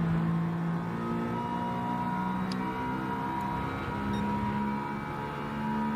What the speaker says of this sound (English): It's taking off in that ambulance.